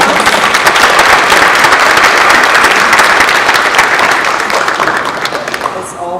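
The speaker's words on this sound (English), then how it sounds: "Let's give all of our candidates a round of applause." Loud, dense applause fills a church hall from the crowd at a Baltimore County executive candidates' debate, a steady roar of many hands that slowly thins and fades toward the end.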